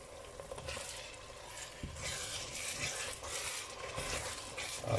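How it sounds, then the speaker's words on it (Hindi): Kofta masala frying in a pan with about 150 grams of yogurt just added, giving a steady broadband sizzle with soft stirring scrapes through the whole stretch, close and moderately loud with no talk. "अब हम इसे तकरीबन 2 मिनट के लिए भूनते हैं योगर्ट डाल के"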